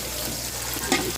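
Garlic frying in a pan until browned gives a brief, close, steady sizzle with a small stir or crackle near the end and no voices.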